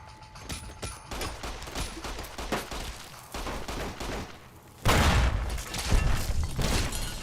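Gunfire in the video game Fallout New Vegas, with a sniper in play: a run of sharp shots and impacts, then a louder, denser burst of blasts near the end, with no talk over it.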